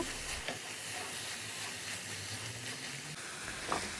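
Coriander powder and turmeric stirred into a ripe bean gravy in a pan, giving a steady low sizzle and bubbling hiss with soft spoon scrapes throughout, heard alone with no voices.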